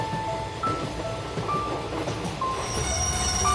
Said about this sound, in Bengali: ট্রেন মোহনপুর স্টেশনে এসে থামে